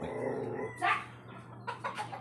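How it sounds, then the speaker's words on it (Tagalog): A dog barks a few times at the gate of a house in the Philippines, short sharp bursts standing out over low background hum, with faint fowl-like calls nearby and no talking. "May aso"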